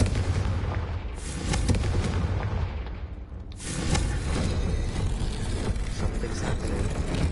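Spell cast in Hogwarts Legacy, a fire spell that sets off loud booming, rumbling bursts, with a sustained roar that drops out briefly and then swells back up. No voices accompany it.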